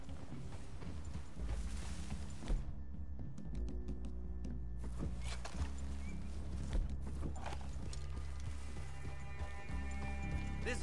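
Horses walking in Red Dead Redemption 2, hooves clip-clopping in a steady, uneven rhythm at close range, with soft tack jingles, a faint whinny and a quiet low ambient bed underneath, no talk.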